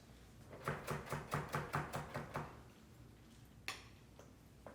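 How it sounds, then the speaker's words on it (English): A knife chops onion on a cutting board in a rhythmic run of about ten crisp, evenly spaced strokes, close and clear, then stops, followed by a quiet pause and one last single knock. "Now I'm going to chop some of this."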